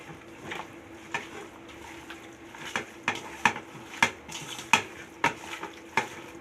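A utensil scrapes and clinks against a pot while turmeric is stirred into mutton curry, giving irregular sharp metallic knocks over a low sizzle, close and fairly loud.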